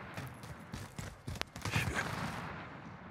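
Gunfire in Call of Duty: Modern Warfare crackles in a quick string of sharp, moderately loud shots, with one standout crack midway among busy battle noise.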